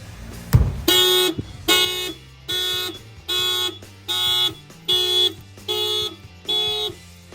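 A 2023 Toyota GR86 car alarm, triggered by a shock sensor after a sharp thump, blares in a steady pattern of eight loud, evenly spaced electronic honks, each about half a second long.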